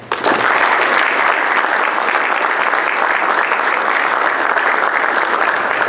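An audience claps in a sustained, loud burst of applause that starts abruptly and holds steady.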